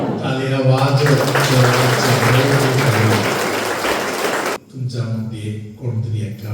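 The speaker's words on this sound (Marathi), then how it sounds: "टाळ्या वाजवत" A worship congregation claps hands together in a dense burst of applause alongside loud singing or chanting voices, then the clapping drops out briefly and voices carry on.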